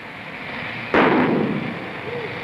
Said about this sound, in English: The firecracker was initiated by flame, as you light a fuse on a bomb